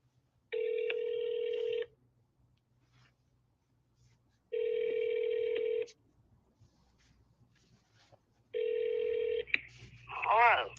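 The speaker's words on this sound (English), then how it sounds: "Let's see if she'll answer the phone." A telephone call rings out in three long, evenly spaced ringback tones separated by silence, then a voice answers at the very end.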